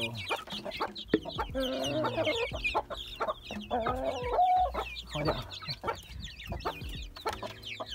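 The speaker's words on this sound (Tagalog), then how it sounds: "Ito yung kanilang mga sisiyo." Hens and their chicks cluck and peep around a yard, a busy mix of low clucks and high thin chick cheeps, fairly close with scattered rustling and no talk.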